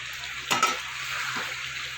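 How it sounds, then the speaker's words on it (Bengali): Already-fried potatoes stirred with spices in a hot pan for a Bengali rohu fish curry: a continuous close sizzle, with a short scraping clatter of the spoon near the start and a softer stir later. "আলুর সাথে ভালো করে এটাকে মশলাটা আমি কষিয়ে নেবো"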